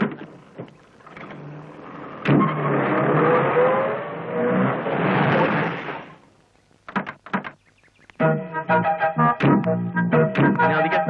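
A car engine runs and revs in a steady rising drone for several seconds before cutting off, followed by clicks and a door-like thunk, with music starting near the end.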